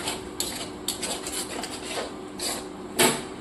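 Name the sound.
stirring spiced masala with yogurt in a pan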